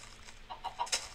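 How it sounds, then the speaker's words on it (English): A Minecraft chicken gives a few short, soft clucks in quick succession near the end. The sounds are faint over quiet game background. "Just let it happen, chicken!"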